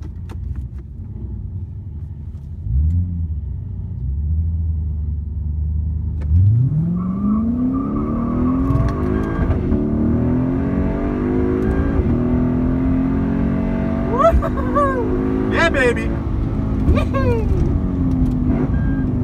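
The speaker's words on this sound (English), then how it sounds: "He's using his launch control." A Mercedes C63S AMG launches hard on launch control, its engine holding a low burbling rev before surging into a loud, rising roar that climbs through gear changes, heard from nearby outdoors.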